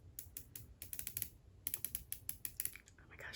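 Small rapid plastic clicks from twisting up a Korean beauty lip product, in several quick bursts close to the microphone and fairly quiet, with no talking.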